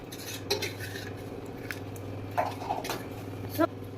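A spoon stirs ORS powder into a glass of water, clinking against the sides in a few sharp taps over a low steady hum, close and fairly quiet.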